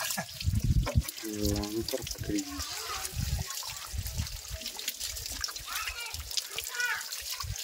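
Water trickles and splashes while a power tiller is washed, running continuously close by as adults and someone talk over it.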